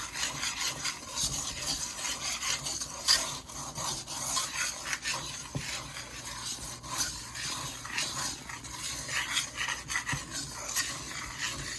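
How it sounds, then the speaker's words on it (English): Butter and 12 ounces of sugar for German chocolate frosting being mixed together, giving a continuous close scraping, rubbing stir against the pot with steady rhythmic strokes throughout. "I just want the sugar and the butter to combine together"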